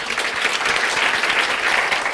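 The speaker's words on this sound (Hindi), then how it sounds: "क्या हमने इस गुड़िया के लिए ताली बजाई क्या?" A classroom of students claps steadily for a classmate after her presentation in a Hindi-language accounts lecture, dense continuous applause filling the room with no talk.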